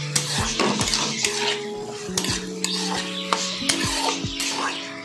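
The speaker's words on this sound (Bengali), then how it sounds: "এবার ভালো করে কষাতে হবে। ভালোভাবে কষাতে হবে।" A spatula stirs and scrapes spiced taro and potato curry in a metal pan, with steady clanks and scrapes over a soft background sizzle, close and fairly loud.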